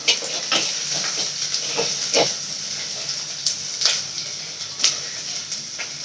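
Onions sauté in a pan for a ground-masala fish curry, giving a steady close sizzle and hiss punctuated by sharp scraping stirs, with no talking.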